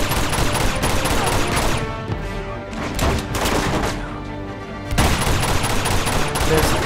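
Pistol gunfire in the Uncharted 2 video game, heard as loud, dense bursts of shots packed close together, with a brief lull midway before the firing picks up again at full strength.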